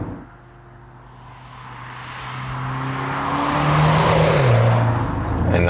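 BMW M135i hatchback powering out of corners on a country road, engine note rising steadily in pitch and loudness as it accelerates, with a brief dip and climb again, heard from inside the car.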